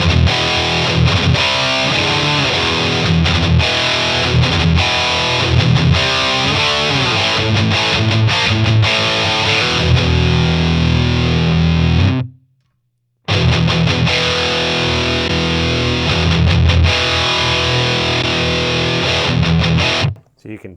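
A REVV Generator 120 MKIII guitar amp with its fat switch on pushes out a thick, heavily distorted guitar tone, loud and close, with riffs playing continuously apart from one abrupt second-long cut midway.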